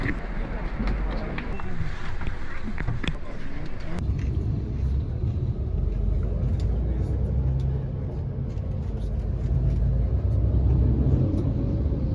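Interior of an intercity bus heading from Bratislava to Budapest: a steady low engine rumble and road drone, with a few clicks and handling knocks early on, then constant cabin noise.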